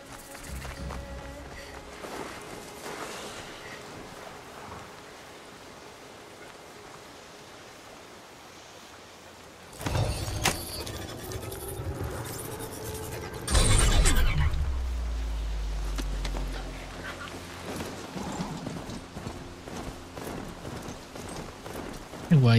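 Mechanical horse mount galloping in Horizon Zero Dawn, with rapid rhythmic hoofbeats that swell and grow louder midway, over background game ambience and occasional voice.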